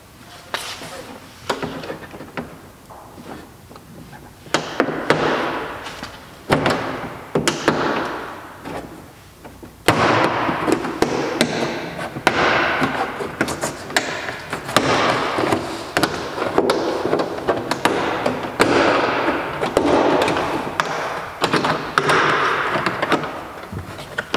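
Plastic retaining clips on a Smart Forfour interior door panel being pried loose: a long run of sharp snaps, knocks and taps, irregular and close, with brief talk between them.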